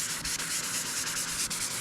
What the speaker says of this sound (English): The orange peel was just too strong, so I had to resand it all along here.